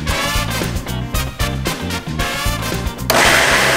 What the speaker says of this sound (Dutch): En dat gooi je in een blender.